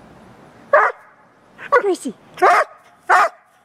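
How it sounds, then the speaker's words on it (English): A dog barks close by in four sharp, loud bursts spaced roughly a second apart, with a person speaking briefly between them. "What, you barking at me?"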